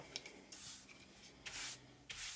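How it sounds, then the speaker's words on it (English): Sandpaper scrapes across wood in three short rasping strokes separated by pauses, close and fairly quiet. "then you got to do a little bit of sanding on that"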